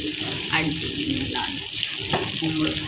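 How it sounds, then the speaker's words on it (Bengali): Chicken cooking in a home kitchen, a steady wet sizzle and watery hiss running throughout, with a voice talking over it. "চিকেন রান্না হচ্ছে আমাদের"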